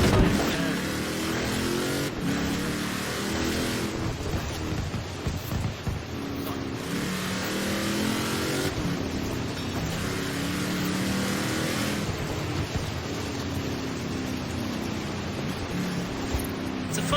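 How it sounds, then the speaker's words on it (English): A heavy upgraded truck engine in Forza Horizon 4 drones continuously, a loud, steady motor roar with shifting pitch as the vehicle drives, running throughout without pause. "the engine noise, that's a typical engine you hear in most cars that are upgraded for this engine"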